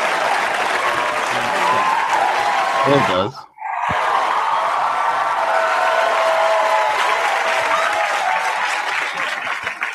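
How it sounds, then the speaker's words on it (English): Audience applause in a hearing room fills the clip as a dense, even roar of clapping. It cuts out briefly midway, then resumes at full strength. A voice speaks briefly in the gap. "I wish I would have skipped the applause."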